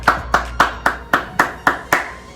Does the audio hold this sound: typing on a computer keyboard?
no